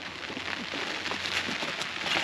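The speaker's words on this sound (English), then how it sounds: "it's starting to rain" Rain just starting to fall outdoors on a homestead by a newly planted corn field, a steady broad hiss of drops hitting surfaces, fairly loud and continuous without talk.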